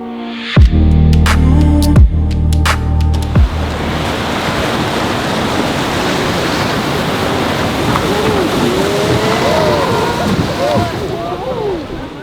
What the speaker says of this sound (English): Our trip started with the Hozugawa boat ride.